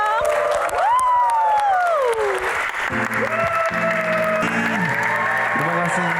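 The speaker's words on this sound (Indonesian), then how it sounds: "Tepuk tangan dong." Studio audience on an Indonesian TV Q&A show applauds and cheers loudly and steadily throughout, with a strong tonal musical or vocal line sliding over the crowd noise.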